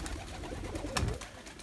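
Pigeons coo and call while feeding on purslane, with one loud close call near the middle over a steady background of birds.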